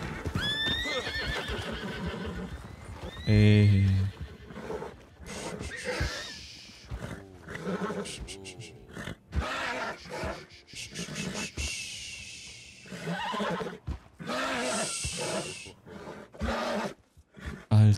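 Wild horses in Red Dead Redemption 2 neigh and whinny repeatedly near at hand, their calls mixed with pounding hoofbeats and snorts, while a man lets out a brief exclamation.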